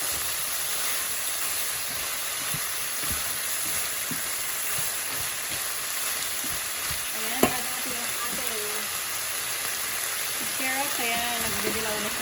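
Chicken with carrots and celery sizzles steadily in a pan, frying for a chicken curry, with occasional stirring clinks and a voice talking over the cooking.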